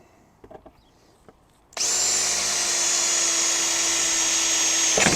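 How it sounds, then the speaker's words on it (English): After a few quiet taps, a power drill starts up with a steady high-pitched whine as it bores a hole during a solar panel installation on an RV, running continuously until it stops. "Let's try that again with a different drill bit."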